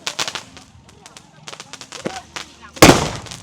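Firecrackers and fireworks burst during a church chariot procession festival, with sharp crackling pops scattered throughout and one loud, dense burst near the end, mixed with faint crowd noise.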